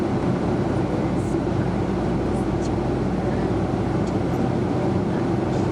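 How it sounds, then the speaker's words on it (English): Steady, unbroken low roar of an airplane cabin in flight through bumpy air, a dense engine and airflow drone that stays constant throughout. "This plane is jumping around too much."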